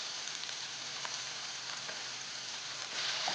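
Tomatoes fry with turmeric and rock salt in a pan for prawn gravy while being stirred, giving a steady close hissing sizzle that swells slightly near the end, with no talking.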